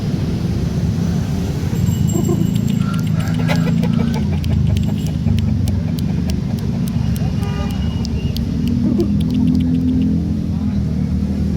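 Roosters crow and chickens cluck amid a busy crowd at a chicken market in Makassar, Indonesia, with traffic rumble and horn toots in the background.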